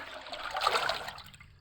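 Rice-washing water, kept two days, is poured and stirred into a container for watering plants, giving a close, steady trickling and splashing of liquid that swells in the middle and fades toward the end, with no talking.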